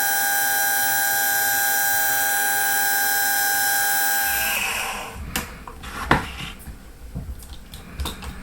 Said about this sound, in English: Let's drill the hole first